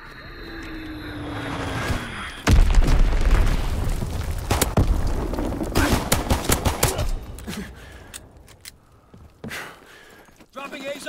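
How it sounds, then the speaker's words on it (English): Call of Duty WWII multiplayer battle: a heavy Azon bomb blast erupts after an aircraft drone, followed by rapid bursts of gunfire and further booms that thin out into scattered shots, loud and close. "Dropping Azon bomb."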